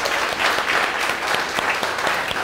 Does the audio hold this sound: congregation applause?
yes